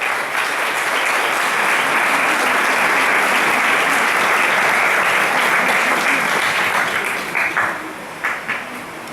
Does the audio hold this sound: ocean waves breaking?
no